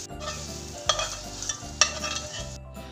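Chicken sausages and garlic sizzle steadily in a pan over a medium flame, with a few sharp scrapes and clinks as a utensil stirs them, close by and with no voices.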